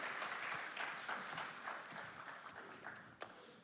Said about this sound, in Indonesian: Saya undang, kasih tepuk tangan buat Pastor Jimmy dan Lia.